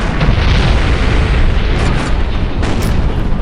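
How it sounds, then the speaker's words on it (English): Bombing run explosions in the World War II era strategy game Empire Earth 2 roll together as a loud, continuous rumbling barrage of booms with no pause, dense and heavy throughout. "I'll just quickly give another bombing run over here."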